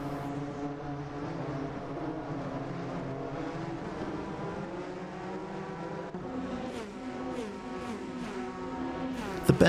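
Bentley Speed 8 Le Mans prototype engine in the video game Assetto Corsa, screaming at high revs, rising and falling through gear shifts, loud and continuous.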